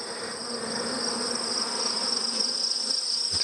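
Honey bees buzz steadily around small mating nuc hives in an apiary, a dense, continuous hum that stays close and fairly loud throughout, with no speech.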